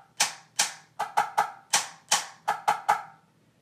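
Snare drum playing one measure of sharp, separate strokes with doubled rim hits and lighter taps, ten crisp attacks in an uneven rhythm, close and alone with no talk.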